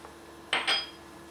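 A spoon scrapes and clinks around a bowl of soft peanut butter cookie dough with flour and baking powder, in two quick close strokes over a quiet kitchen background.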